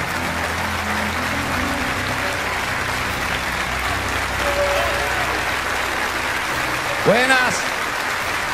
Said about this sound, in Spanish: Vamos a dar un caluroso aplauso al Señor de señores